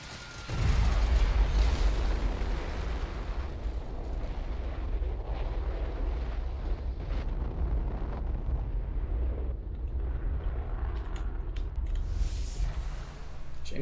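Heavy sustained booming blast from a weapon being test-fired in Fallout 4, a loud low rumble that swells at the start and rolls on continuously with crackling texture for over ten seconds, no talk.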